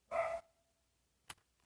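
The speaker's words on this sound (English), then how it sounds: "My dogs want to hear the story. Can you hear them barking upstairs?" A single burst of dog barking from upstairs in a house, muffled and fairly loud for a moment, followed by a short, fainter second yelp.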